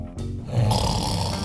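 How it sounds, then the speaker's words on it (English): A single loud, close snore, one rasping, rumbling inhalation lasting just over a second as a standalone sound effect. "What happens if Earth started snoring?"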